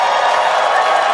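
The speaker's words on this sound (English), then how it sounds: "Everyone's cheering as we get into T-minus 5 minutes" Crowd cheering at a SpaceX Starship and Super Heavy booster integrated test flight launch broadcast, a dense, loud, continuous roar of many voices and applause.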